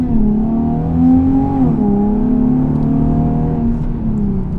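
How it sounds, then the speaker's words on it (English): A Nissan 370Z engine pulls hard from the driver's seat, revs climbing through a gear, easing briefly at a shift, then rising again, loud and close with no talking over it. "That acceleration again."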